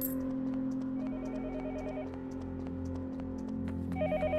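A telephone rings in the video game Yomawari: Night Alone, short warbling electronic trills recurring in bursts over a low sustained hum and soft periodic clicks.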